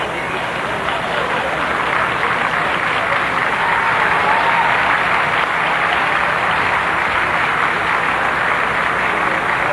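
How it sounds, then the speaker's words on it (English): A large outdoor crowd in Halifax applauds Queen Elizabeth II as she departs for her motorcade, steady dense clapping held at an even level throughout. "a large appreciative crowd signaling their satisfaction and pleasure with their monarch"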